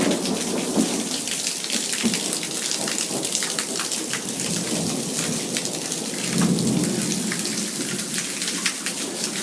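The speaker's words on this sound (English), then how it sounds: "Very, very electric storm." A heavy thunderstorm over Phoenix, Arizona, with dense rain pouring steadily onto surfaces and deep rolling thunder swelling beneath it, loud and continuous with no voices.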